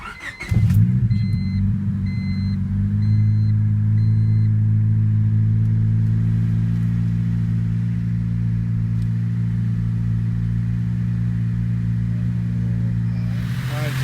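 A Honda car engine starts and settles into a loud, steady, high idle caused by a faulty throttle cable, droning on without change.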